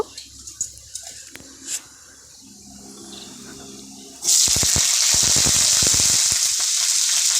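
Cauliflower drops into hot oil with panch phoron and bursts into a loud, dense sizzle that stays steady and close after a few seconds of quiet kitchen handling sounds, with no talk.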